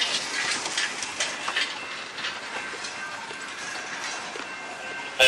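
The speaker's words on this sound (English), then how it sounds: "One person in the vehicle, train still moving." Train still rolling while dragging a car caught in front of it, a steady loud rail rumble with grinding and squealing through the whole stretch, no voices.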